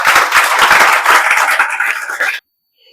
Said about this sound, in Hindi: इन माता पिता के सम्मान में तो ताली बजना ही चाहिए।